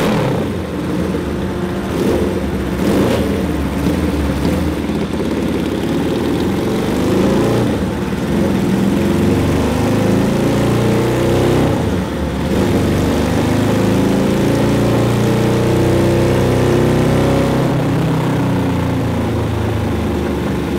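A 550cc engine fitted to a Little Tikes go kart revs hard on a dyno pull, with a loud, continuous, rough roar that climbs and holds for about twenty seconds.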